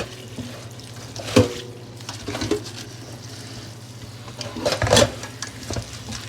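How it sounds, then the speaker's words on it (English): Chopped cabbage is rinsed under a running kitchen tap in the sink, with a steady flow of water and a few louder bursts of splashing as the leaves are moved about. "So just rinse this really well."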